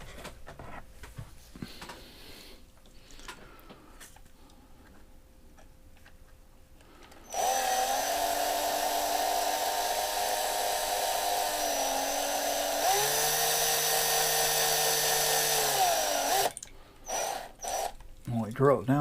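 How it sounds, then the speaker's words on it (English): A power drill with a bit bores into the rivets of a Hot Wheels '71 Dodge Demon diecast car, a loud, steady whine that shifts pitch midway, preceded and followed by quiet handling clicks. "We drill it down so far and then just take the heads off here with a bigger drill bit."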